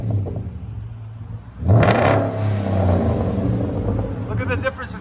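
A Hyundai Genesis engine revs hard, rising suddenly into a loud, sustained roar with exhaust rumble, then holding steady, heard close from inside the car.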